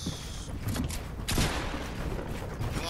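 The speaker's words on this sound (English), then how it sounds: "I'm shooting it down, guys." Gunfire in Fortnite as a player shoots down an opponent's build, a short muffled burst of shots and impacts over steady game noise and a low rumble.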